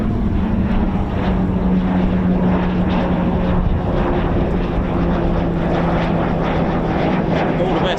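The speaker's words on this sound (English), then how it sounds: "This is another little tiddly plane" A small propeller plane flies over RAF Waddington with a loud, steady engine drone and buzzing prop hum that stays strong throughout, with faint talk in the background.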